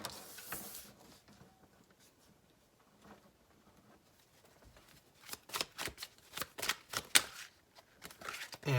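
A tarot deck is shuffled in quick bursts of riffling, flapping card sounds, sparse at first then denser and louder toward the end, close by and without talk.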